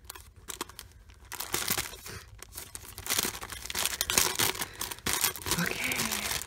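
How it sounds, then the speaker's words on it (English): Plastic packaging from opened happy mail crinkles and rustles close to the microphone in irregular bursts, with handling noises throughout. "Sorry for the crinkling"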